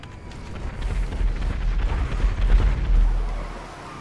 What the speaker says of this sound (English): That sounded like modern explosions.